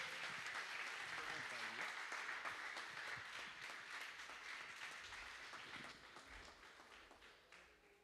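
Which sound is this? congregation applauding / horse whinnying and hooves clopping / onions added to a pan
congregation applauding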